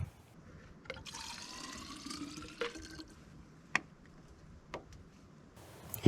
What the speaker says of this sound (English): Now I can just take the excess and dump it in my overflow reservoir.